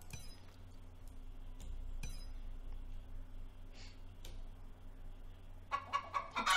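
Clucking from a chicken in the video game Star Stable, a few short bursts spread across the clip, with quiet game ambience and a louder burst of clucks near the end.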